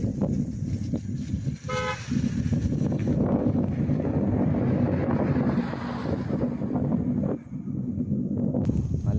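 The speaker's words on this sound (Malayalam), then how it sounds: "ഇവിടുത്തെ കാറ്റാണ് കാറ്റ്" Strong wind roars steadily against the microphone at Panchalimedu, Kerala, with a brief high-pitched vehicle horn toot partway through and vehicle rumble underneath.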